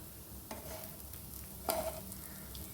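Soft, steady bubbling hiss of food deep frying in oil, with a couple of faint metallic clicks, quiet and close.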